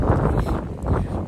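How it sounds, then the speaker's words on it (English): Strong winter wind on Guadalupe Peak in Texas, a loud continuous buffeting roar hitting the microphone with gusty surges. "Way too windy."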